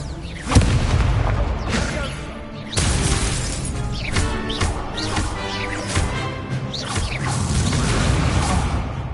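Explosive Expulso spell blasts from Hogwarts Legacy, loud booming bursts with whooshing swishes and crashing debris, coming in repeated waves over a dense, continuous game soundscape.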